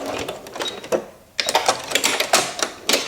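A sewing machine runs in quick bursts while stitching backwards along a quilt binding, giving a clicking, rattling series of short pulses with a brief pause midway, close and fairly loud.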